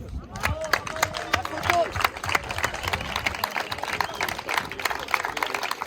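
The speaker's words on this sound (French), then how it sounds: "je vous demande de vous applaudir" A French event audience claps in scattered, uneven bursts over several seconds, moderately distant, with a babble of voices mixed in throughout.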